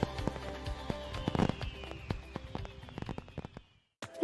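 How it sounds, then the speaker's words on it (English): Consumer fireworks in a commercial: a rapid series of sharp crackling pops and bangs with a whistling streak, moderately loud, fading out before one last burst at the end. "keep the tradition alive with fireworks built for excitement and crafted for safety."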